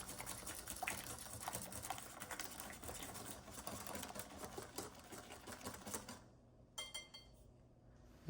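A utensil clicks and scrapes rapidly in a bowl, stirring cooled heat-treated cake mix into a base for cake batter ice cream, faint and close and continuous, ending in a few separate taps.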